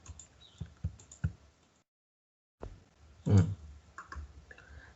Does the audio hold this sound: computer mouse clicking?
yes